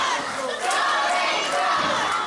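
A wrestling crowd at a PPW PowerSlam TV show cheers and shouts loudly, with many overlapping voices and a few high cries rising from the steady roar.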